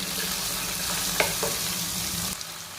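Sliced onions and green chillies frying in a pan for avarekalu upma, a loud continuous sizzle with a couple of quick utensil scrapes midway, close up and without talk.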